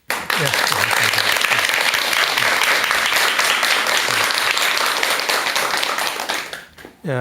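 Loud, sustained applause from a lecture audience welcoming a doctor to the stage for a talk on the bodhisattva's life, steady dense clapping for about six seconds before fading out.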